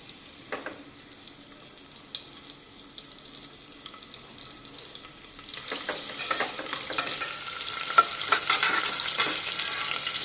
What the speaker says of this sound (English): And I'm adding my coriander roots which have been washed thoroughly and dried.